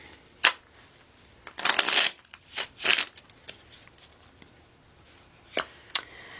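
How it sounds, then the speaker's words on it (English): Tarot cards being shuffled in several quick riffled bursts with short pauses between, crisp and close, with no talking. "One more shuffle."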